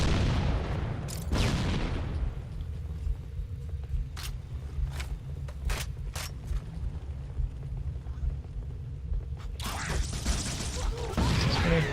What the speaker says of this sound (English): Create such a large explosion